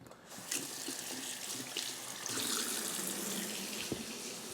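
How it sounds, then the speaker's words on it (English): A sink tap runs steadily while peppers and onions are rinsed under it, a close continuous hiss of splashing water with small knocks and clatters from the vegetables being handled. "So I'm gonna rinse them off in my little sink over here."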